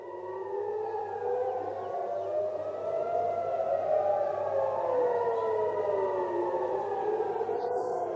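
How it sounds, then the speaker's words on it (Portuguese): Civil defense air raid sirens wail across Tel Aviv, several overlapping tones rising and falling in long, slow sweeps that carry from a distance for the whole stretch, with no voices over them. "o que vocês estão ouvindo agora são sirenes soando por toda Tel Aviv"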